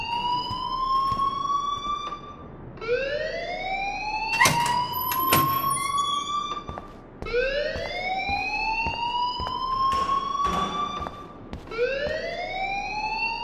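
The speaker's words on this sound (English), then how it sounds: "please turn off that alarm since that's your job" A fire alarm blaring in the video game Life is Strange, repeated rising wails that sweep upward every two to three seconds, loud and insistent, with a few metallic clanks between them.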